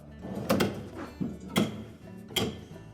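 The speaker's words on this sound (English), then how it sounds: "We'll lift up on the front of it, tilt it up, and disengage the hooks at the back, and we'll set the complete drawer aside." A Whirlpool refrigerator's freezer drawer is lifted, tilted off its rear hooks and set aside, giving three separate knocking thunks spaced about a second apart, close by with no talking.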